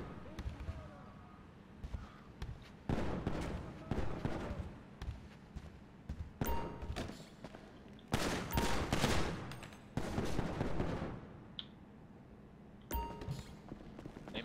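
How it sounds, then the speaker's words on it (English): Gunfire at a shooting range in the video game GTA V, with loud bursts and rapid volleys of shots separated by quieter gaps, some sharp single cracks, and a faint voice at moments. "Ammunition shooting range."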